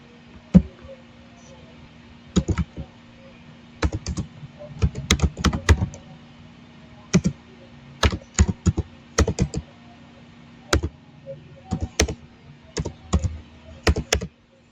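Keystrokes on a computer keyboard while entering commands at a command line, heard as scattered short clusters of crisp, close taps separated by pauses, over a faint steady hum.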